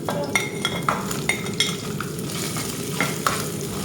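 Onion sautéing in a pan for chicken sinigang with tamarind: a steady close sizzle with a utensil scraping and clinking against the pan in repeated stirring strokes, no voices.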